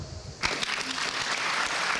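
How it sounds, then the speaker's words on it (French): An audience breaks into applause after a youth project presentation at a public event, a sudden burst of dense clapping that stays steady and fairly loud. "On applaudit nos jeunes et l'équipe du projet jeunesse"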